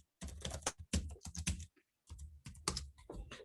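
Someone types on a computer keyboard in quick, quiet clusters of keystrokes, with a short pause in the middle before the typing resumes.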